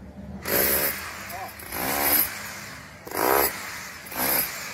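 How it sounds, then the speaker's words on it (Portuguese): Electric demolition hammer vibrating wet concrete poured into a formwork boundary box at a building site, four loud buzzing bursts of about a second each separated by short pauses, with a voice heard between bursts. "você usa o martelete, que ele força menos, ó"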